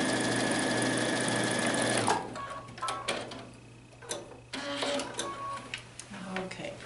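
Sewing machine stitching a final seam on a quilt block, running steadily and close for about two seconds, then stopping; scattered clicks and handling sounds follow while someone speaks briefly.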